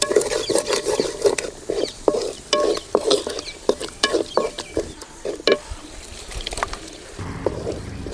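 Onion and tomato sizzle in hot oil in a pan for a manathakkali kai kuzhambu while a spoon stirs them, producing loud, busy scraping and crackling strokes that repeat close up throughout.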